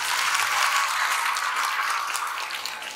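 Audience at an introduction session gives a burst of applause, dense steady clapping from many hands that fills the space and tapers slightly toward the end.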